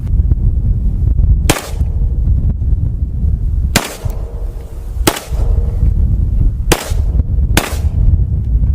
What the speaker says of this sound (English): We're shooting some hollow points as well, as you guys can see.